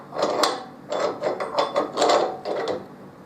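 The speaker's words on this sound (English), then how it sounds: "just loosen the vise." A bench vise being loosened gives a run of close, dry metallic ratcheting and grinding turns in uneven bursts, fairly loud and without talking.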